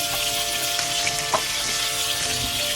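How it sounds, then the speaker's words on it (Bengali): Fish, freshly caught from the sea, frying in hot oil in a pan, a steady close sizzle with a few soft pops and faint clinks, no talking. "তো আমি মাছগুলো হালকা লাল লাল করে ভেজে নিচ্ছি।"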